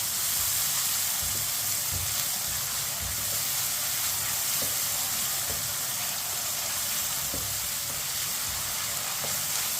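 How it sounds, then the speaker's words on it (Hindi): Chopped onions frying and lightly browning in a pan over medium heat, with a continuous close, dense sizzle and occasional faint soft stirring taps. "मीडियम आंच पर प्याज को हल्का सा ब्राउन करेंगे।"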